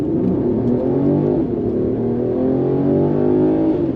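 A Mercedes-Benz CLS 450 with a mild-hybrid electric boost accelerates hard at full throttle, its engine note rising in pitch and staying loud and close the whole time, with no voices.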